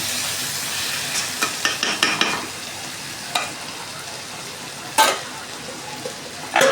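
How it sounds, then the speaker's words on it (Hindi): Vegetables frying in a pan, a steady sizzle broken by scraping and clinking stirs from a spatula, several quick strokes then a few sharper knocks against the pan, close up with no talk. "क्योंकि लग जाती थी सब्जी, तो इसलिए मैं इसे चलाई अच्छे से"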